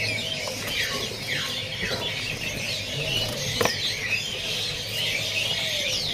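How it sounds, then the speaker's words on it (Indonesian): Ramatuk laut birds in a bird shop kiosk, many overlapping squawks, chirps and squeals at moderate loudness, with fluttering wings and busy shop background. "Di sini ada burung ramatuk laut."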